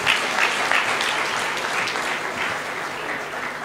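Audience applause at a gathering of Kenyans in Kigali, Rwanda: a dense, steady wash of clapping from a sizeable crowd, sustained evenly throughout with a few faint voices mixed in.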